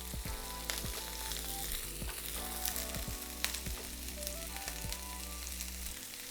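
Shrimp and pressed garlic sautéing in hot oil in a pan, a steady close sizzle with occasional crackles and light stirring clicks.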